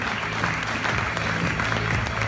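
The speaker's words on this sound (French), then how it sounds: "je voudrais qu'on les applaudisse bien fort aussi" Theatre audience applauding at a short-film festival awards event, a steady dense wash of many hands clapping throughout, moderately loud with a faint low hum beneath.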